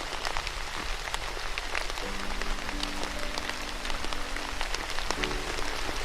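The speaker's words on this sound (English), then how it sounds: "It's raining!" Steady rain patters densely on a surface with a hiss of countless small drops. A low, soft hum drifts underneath through the middle of the scene.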